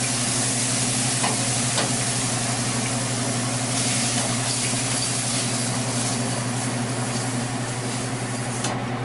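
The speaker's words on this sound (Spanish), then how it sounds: "dejé que se quemaran un poquito los champiñones en la sartén" Mushrooms browning in a frying pan for a white bean soup, giving a steady, loud, continuous sizzle with faint stirring scrapes throughout.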